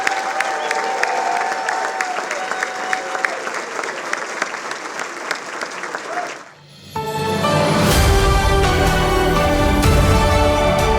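A large audience at an alumni award ceremony breaks into loud, sustained applause for honorees; after a brief dip, the clapping swells again into a dense, full round with some cheering.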